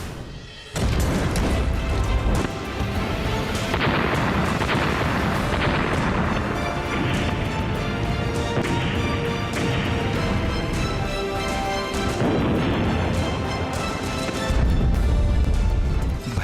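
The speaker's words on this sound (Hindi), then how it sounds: "भयंकर बमबारी और गोलाबारी से दहल रहा लेबनान।" News footage of bombing and shelling in Lebanon, heard as a continuous loud roar of blasts and rumbling booms with crashing debris, dense and sustained with no talk.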